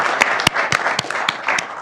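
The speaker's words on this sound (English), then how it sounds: "Let's clap for Rashard as well, because we're grateful for him." A city board of aldermen meeting audience gives a brief round of applause, scattered hand claps from a modest crowd, fairly loud and close, lasting under two seconds.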